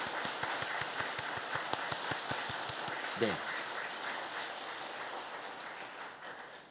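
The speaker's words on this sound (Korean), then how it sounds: "우리가 하나님을 찬양하는 의미 속에서 좀 박수를 힘차게 한번 해보면 어떨까요?" A church congregation at a Korean Sunday worship service claps in a quick, even rhythm that fades out after a few seconds, with a brief spoken word as the clapping ends.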